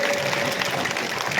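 A crowd at a political rally claps in dense, steady applause to welcome a speaker, a broad, even wash of hand claps that holds at one level throughout.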